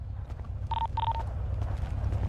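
Two short phone dialing tones sound in the video game GTA 5, a pair of clear beeps in quick succession heard over a low background hum.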